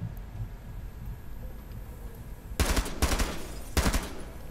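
Gunfire in the video game Rainbow Six Siege: after a few seconds of low ambient game noise, three loud, close bursts of rapid automatic shots crack out in quick succession.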